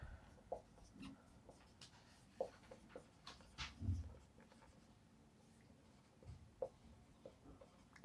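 Chalk or marker writing on a board during a technical lesson, faint scratchy strokes in short irregular bursts over a quiet classroom background, with no speech.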